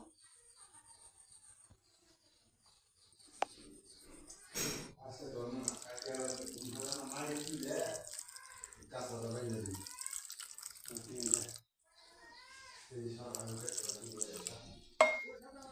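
Tap water pours into a bowl of dry soybean chunks in a home kitchen, quiet splashing and trickling in bursts with a voice speaking between them.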